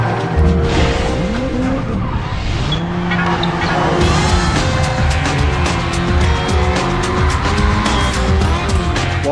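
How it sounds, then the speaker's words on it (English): Race cars in the Race Driver 2006 video game roar continuously with engines revving and shifting pitch, while tires squeal in repeated sliding sweeps, loud and close throughout. "The roar of the engines changes depending on which camera view you pick, and tires squeal realistically"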